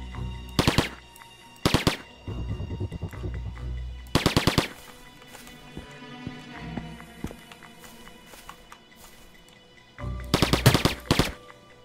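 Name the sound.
gunfire in a shooter video game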